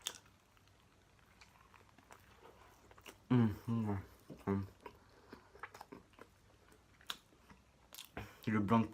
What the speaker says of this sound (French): Et on va taper encore un croc dans ce magnifique wrap.